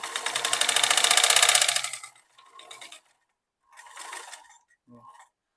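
Sewing machine stitching the lining of a strap kurti: one sustained burst of rapid needle clatter lasting about two seconds, followed by three short, quieter runs with pauses between them.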